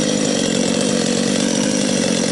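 A Husqvarna 254XP chainsaw fitted with a modified muffler cuts firewood. The engine holds a loud, steady, high-revving snarl throughout, close up and with no voices.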